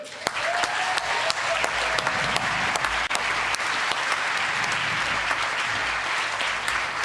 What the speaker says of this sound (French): Bravo Joseph, applaudissez-le.